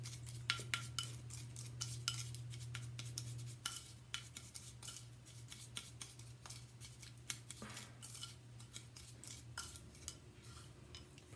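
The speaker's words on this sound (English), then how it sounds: "you're just gonna stir that around like so" Brown sugar and baking soda lip scrub stirred in a small dish, giving a steady run of scraping and light clinking strokes from a utensil, close and fairly quiet, with a low hum underneath.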